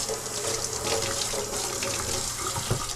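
A kitchen tap runs steadily into a sink while peanut porridge for a Jamaican breakfast is being made. The close, continuous splashing rush stays even throughout, with nothing else over it.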